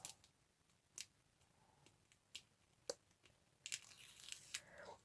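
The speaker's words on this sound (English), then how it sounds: "taking the release paper off" Release paper peels off adhesive foil during glitter shaker card crafting, heard as quiet, close crackles and sharp little ticks, ending in a brief crinkly tearing burst.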